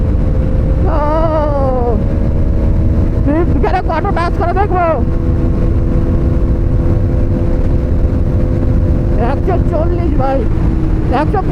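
A Hero Xtreme 250R motorcycle cruising in fifth gear, with a steady loud engine drone under heavy wind noise and a rider talking intermittently.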